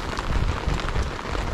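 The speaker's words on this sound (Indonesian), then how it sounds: "Ini kita diguyur hujan lagi aja nih" Rain pours down at a beach campsite at Pantai Adem Anyer, a dense close hiss of drops striking surfaces with low rumbling underneath, steady and without talk.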